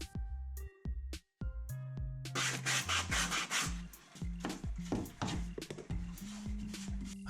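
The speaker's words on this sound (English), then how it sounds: "Clean the edges smooth with sandpaper and then remove the dust." Sandpaper rubs along the edges of a piece for an indoor fish pond build, making a steady, close scratchy rasp of repeated strokes, with music playing underneath.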